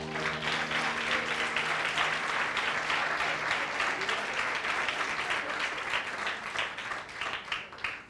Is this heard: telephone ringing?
no